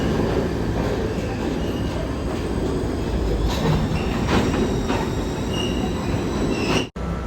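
New York subway train running on the Broadway line center track toward Brooklyn, a steady loud rumble of wheels on rail with faint squeals, continuous throughout and cutting off abruptly near the end.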